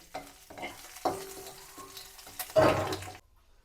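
Ingredients sautéing in a pan over a low flame, with soft sizzling broken by several distinct stirring scrapes, one longer and louder near the end before quieting.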